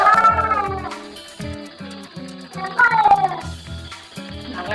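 A cat meows repeatedly, several drawn-out, wavering cries in close succession, loud and near, with short pauses between them.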